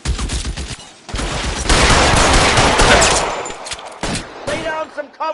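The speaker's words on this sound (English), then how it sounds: "Lay down some covering fire." Heavy gunfire in the video game L.A. Noire, with dense, loud bursts and rapid volleys sustained for several seconds, then dropping into a few sharper separate shots near the end.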